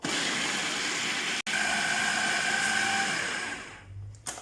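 A blender grinds garlic and chili slices with a loud, steady motor whine and churning roar, a brief cutout partway, then the motor winds down and stops near the end.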